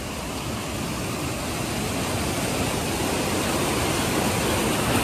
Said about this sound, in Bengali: এই ঝর্ণাটা এখন বেড়ে গেছে